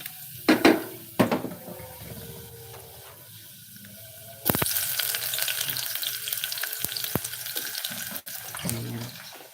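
Canned sardines hit hot oil with garlic in a pan and break into a loud, steady sizzle after a few clanks and clicks. The frying carries on without pause, with someone speaking faintly now and then.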